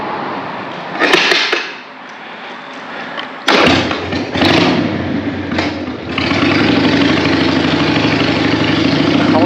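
A 2002 Harley-Davidson Sportster motorcycle engine idles and revs, with loud bursts around the middle before settling into a steady, continuous rumble close by; no talking.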